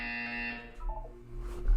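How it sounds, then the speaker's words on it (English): A buzzer in the video game Portal 2 gives a steady, harsh, harmonic buzz for about half a second, then cuts off and fades. Fainter tones follow in a quiet background. "You will hear a buzzer."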